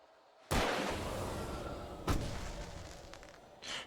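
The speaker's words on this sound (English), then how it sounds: "I love how the fireworks are probably going off to the beat" Fireworks burst in the video game Alan Wake Remastered: a loud sharp boom with a long rumbling tail, a second bang a moment later, then a fainter pop.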